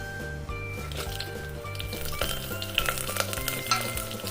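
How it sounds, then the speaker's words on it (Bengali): Whole dried chili, bay leaf, cumin seeds and cloves sizzle and crackle in hot oil in a clay pot, a steady close frying hiss with a few louder spits. "এগুলো আমি ফোড়নে দিয়ে দেব। শুকনো মরিচ, তেজপাতা, গোটা জিরে, লবঙ্গ,"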